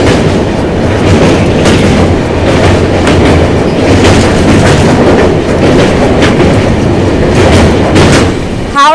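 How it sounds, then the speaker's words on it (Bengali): The Howrah to Dibrugarh train runs on the rails past Fakiragram, a loud continuous roar from on board with rhythmic clickety-clack wheel beats repeating through the whole stretch. "ছেড়ে দিল আমাদের ট্রেন ফকিরাগ্রাম"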